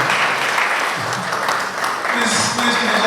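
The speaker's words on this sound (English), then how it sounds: "Now, let us give a standing ovation." An audience at a bar association legal education session gives a standing ovation, with continuous loud clapping throughout and voices mixed into the applause.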